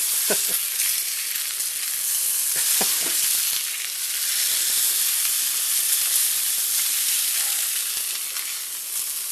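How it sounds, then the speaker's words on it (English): Steak fat sears in a very hot pan, a steady loud sizzle and hiss with a few sharp crackles and pops near the start and around three seconds in, continuing without speech. "Turn it on its side so the fat can cook a little bit."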